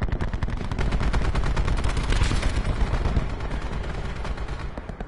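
Rapid automatic gunfire in a video game, a dense, continuous loud rattle of shots filling the whole stretch with no pause.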